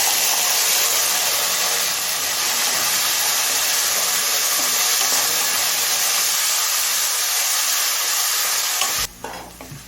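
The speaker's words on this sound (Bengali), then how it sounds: "এবার এই তেলে দিয়ে দিচ্ছি ছোটো ছোটো করে কাটা একটা বড় সাইজের আলু" Small diced pieces of a large potato sizzle loudly and steadily in hot oil in a home kitchen, with a broad continuous frying hiss that cuts off abruptly near the end.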